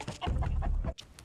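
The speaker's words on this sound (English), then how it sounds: "you heard a chicken noise" A chicken clucks from the video game Modern Warfare 2 as a sound effect, a short run of close, loud squawking clucks that stops abruptly before a brief faint tail.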